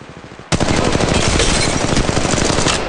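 Rapid automatic gunfire in Apex Legends Mobile, bursting in abruptly and running as a loud, dense, continuous stream of close shots for over two seconds.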